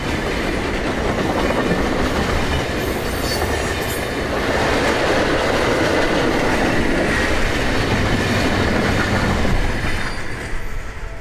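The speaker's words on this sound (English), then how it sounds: "a blue EMD SD42 carries Canadian Pacific's train 272 east along the Chicago line" A blue EMD SD42 locomotive hauls Canadian Pacific freight train 272 east along the Chicago line, a continuous close rumble with wheel clatter and faint squeal and no voices.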